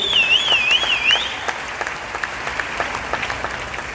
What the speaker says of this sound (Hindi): तो फिर उस सर के लिए फिर से ताली होनी चाहिए।